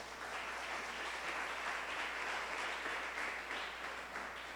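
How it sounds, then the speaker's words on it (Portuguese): Congregation at a church service applauds Jesus, with a soft, distant wash of steady clapping that holds throughout over a low hum. "Aplaude Jesus."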